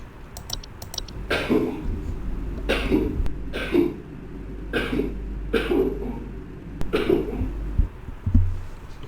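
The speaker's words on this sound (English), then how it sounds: "It sounds like he's coughing." A video game creature gives a series of rough, wheezy coughs repeating every second or so over a low rumbling background, with a few clicks mixed in.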